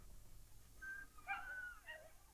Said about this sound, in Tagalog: dami ding aso dun